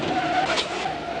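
A 1969 Renault 16 TS on radial tires brakes hard, its tires squealing and skidding in one continuous, fairly loud screech close by with no voices.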